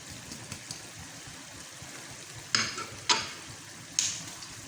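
Jaggery and wheat flour halwa is stirred in a pan after milk powder goes in: a soft, continuous low sizzle broken by three sharper scraping strokes, close by and without talk.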